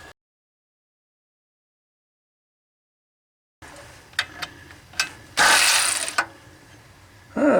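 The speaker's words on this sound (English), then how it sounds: "I like to go back with a ratchet because I did this by feel the first time taking them off" Ratchet clicking while backing off bolts on a Ford F250 6.6-liter 400 cubic-inch V8 water pump, with a few short close metallic clicks and a louder burst of ratcheting after a stretch of silence.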